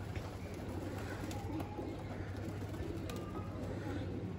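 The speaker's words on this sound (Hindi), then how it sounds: "हमारे कबूतर आ चुके हैं इस टाइम" Pigeons landing, cooing and fluttering among steady outdoor background noise, with scattered soft wing sounds and calls throughout.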